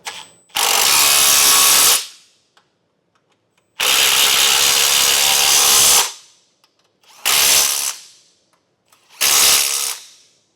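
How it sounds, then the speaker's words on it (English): A power drill or impact driver spins a 13mm socket to tighten factory bumper bolts on a 2022 Chevrolet Equinox, in four loud, close whirring bursts of about one to two seconds each, with short silent gaps between them and no talk. "Now we'll tighten our factory bumper bolts with that same 13mm socket we used to remove them."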